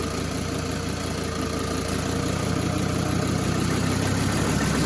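A Toyota 1PZ engine idles cold below its set idle speed, with no heat on the intake manifold. It runs as a steady, rough, close drone with no talk.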